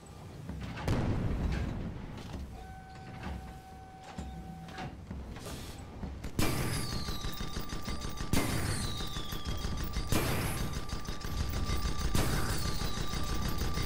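A ship's side gun fires in the airship battle game Guns of Icarus Online, with several heavy booming reports spaced a few seconds apart over a constant engine drone and mechanical clatter.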